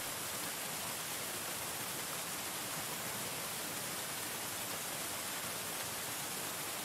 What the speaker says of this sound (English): it's more or less just a waterfall sound